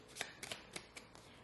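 A deck of tarot cards is shuffled by hand in a quick burst of soft, close riffling flicks, about five or six taps in a row.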